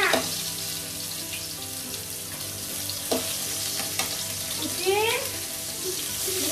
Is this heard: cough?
no